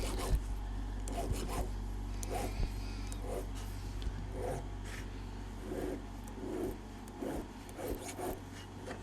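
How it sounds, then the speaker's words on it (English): A hand file works a mitered chamfer on metal in a series of short, rhythmic rasping strokes, faint and close against a low background hum. "I'm filing and I'm releasing pressure and I drag it back"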